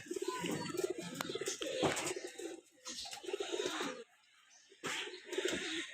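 Several pigeons cooing close by in a loft in repeated low, throaty rolls, with a brief quiet gap midway and no voices.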